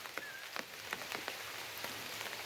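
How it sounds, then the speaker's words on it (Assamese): Rain pattering on surfaces in a village during a storm, a steady hiss of drops with scattered sharper taps, moderately close and continuous with no talk. "বতাহ বৰষুণ মাৰি দিছে আৰু"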